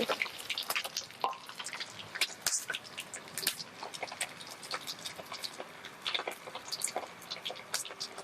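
An egg frying in hot oil for Thai pad kra pao, with dense crackling and popping spitting steadily throughout, close and fairly loud.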